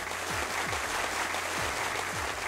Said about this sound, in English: I got a new clap sound effect, and it's shorter, short and sweet